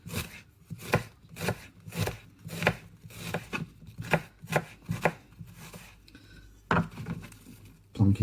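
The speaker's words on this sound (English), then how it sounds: "Chop it up again." A knife chops an onion on a cutting board in a home kitchen, giving a steady run of sharp, close thuds about two per second, then a short pause and a few final heavier knocks.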